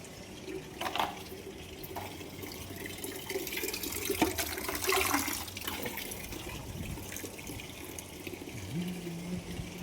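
Water runs and splashes as a container for animals is filled. The flow is a moderate, continuous stream with a few louder gushes, heard outdoors against faint background noise.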